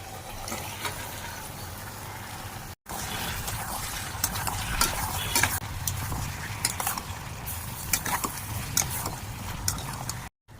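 Mushrooms tipped into a pan of yogurt-spiced curry as they cook, a steady close sizzle and bubbling with soft stirring scrapes and clinks, briefly cut off near the start.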